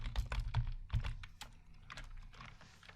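Quick, close bursts of keystrokes on a computer keyboard as a command for launching Jupyter Notebook is typed, an uneven run of clicks that thins out toward the end, with no talking.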